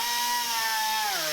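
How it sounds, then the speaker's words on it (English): A Jeep weld is being cut off with a tool that gives a close, steady high-pitched whine, falling slightly in pitch near the end of this short moment. "So we're just gonna hurry and cut that weld off, barely, so it disconnects."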